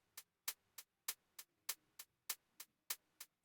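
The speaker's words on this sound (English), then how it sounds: "noise from a Juno 6 filtered with and used with an envelope." Hi-hat made from filtered noise of a Juno 6 synth shaped by an envelope: a steady run of eleven short, crisp ticks, evenly spaced and quiet, with nothing else around them.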